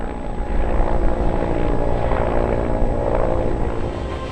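A medical assistance helicopter flies over a desert rally in Abu Dhabi, its rotor giving a loud steady chopping roar that swells slightly as it passes, with no talk.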